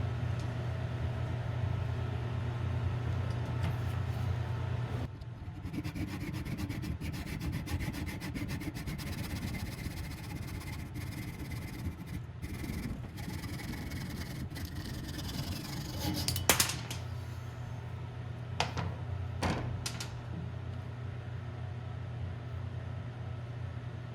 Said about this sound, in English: I'm going to secure our part in this vise and then use a hacksaw to